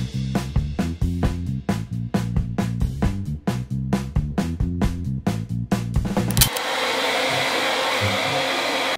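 A hair dryer dries paint on a DIY Christmas jumper, its steady, loud whooshing blast starting abruptly after a stretch of rhythmic music and running continuously to the end.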